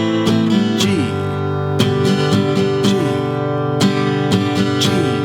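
Strummed guitar chords from chorus three, played close and clear with a steady down-up rhythm and sharp accented strokes, no voice over it.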